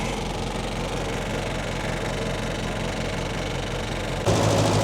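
An MG Midget car engine idles steadily after a cold start with the choke still on, a close, continuous low rumble that deepens and grows slightly louder near the end.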